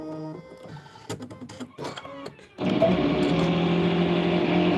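An embroidery machine stitches the satin outline of an inner boot for a bunny boot design, a steady loud whirring hum that starts partway through after a few scattered clicks and handling noises, then runs on unbroken to the end.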